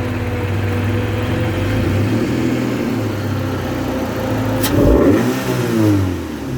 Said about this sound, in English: So now that revs a lot better now